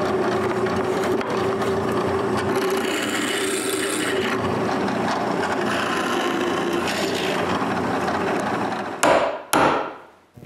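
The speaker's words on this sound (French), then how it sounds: "je dois percer des trous pour les vis." A drill bores screw holes into a wooden band saw table, a steady grinding whir for several seconds that ends in a few short bursts before stopping.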